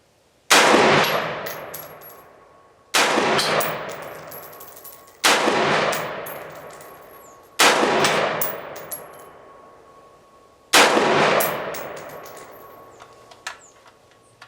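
Five loud single shots from a Radical Firearms RF-15 rifle firing Turkish 62-grain ammunition, spaced roughly two to three seconds apart, each crack ringing out with a long decaying tail and faint metallic pings.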